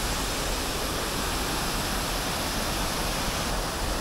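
A waterfall roars in Racha, Georgia, with a steady, dense rushing of water that fills the whole clip at constant loudness and has no voices over it.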